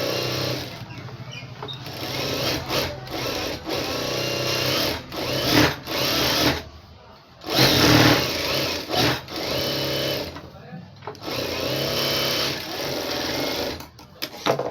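Sewing machine stitching around the folded lining of a blouse, loud close whirring runs of rapid needle strokes that stop and restart several times, with short pauses between bursts and no voices.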